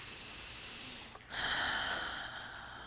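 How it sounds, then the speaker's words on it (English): A person takes slow, deep breaths, a long airy inhale fading out, a brief pause, then a fuller exhale, close and soft in a quiet room. "take a couple deep breaths in"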